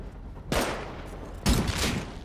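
Gunfire rips through a Rust video game match as a full magazine is emptied, with two loud, dense bursts of rapid shots separated by a brief pause.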